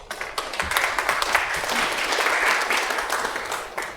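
A community forum audience applauds the Mayor of Ku-ring-gai with steady, dense clapping from a room full of people, fading slightly at the end.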